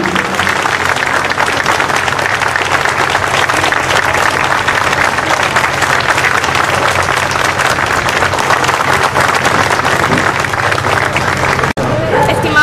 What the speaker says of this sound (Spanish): Fuertes palmas para la Orquesta Sinfónica Municipal de Piura